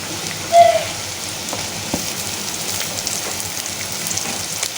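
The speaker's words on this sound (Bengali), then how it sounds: "রসুনগুলো দিয়েও কিন্তু আমি একটু ভেজে নিব" A soft, even sizzle of onion and garlic frying in oil, with one brief louder clatter early on and a few faint pops.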